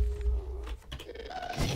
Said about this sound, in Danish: Han smadrede min portal.